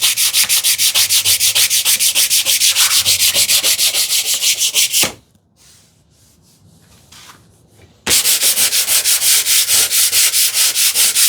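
Wood hand-sanded with 220 grit sandpaper on a TV unit build: fast, even back-and-forth rubbing strokes, close and loud, stopping for about three seconds of near quiet before resuming at the same brisk rhythm.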